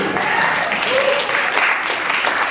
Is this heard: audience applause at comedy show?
yes